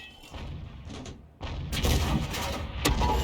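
A tank gun fires a kill shot in a tank battle game featuring the 105 leFH18B2, a sharp loud blast with a broad rumbling boom, following a duller thud moments earlier, plus a brief crack near the end.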